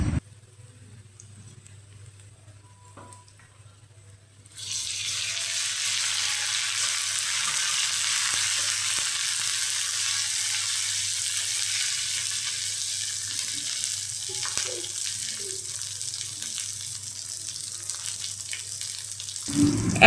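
Ground ginger, garlic and cumin paste hits frying onions in a pan, a quiet start giving way to a loud sustained sizzle that continues steadily for the rest of the clip, with a low hum beneath.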